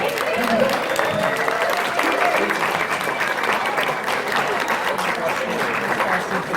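Audience applause at a convention guest panel, steady dense clapping from a crowd filling the room, with voices and cheers mixed in throughout.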